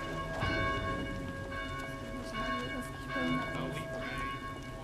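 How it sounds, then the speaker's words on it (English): Church bells clang repeatedly in a belfry in the Dead Island video game, loud ringing tones struck in a steady rhythm that overlap and sustain throughout. "Please help us silence these bells."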